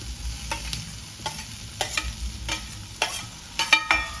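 Chopped onions fry in a pan, a steady soft sizzle broken by repeated scraping stirs of a spatula against the metal, close by with no talking.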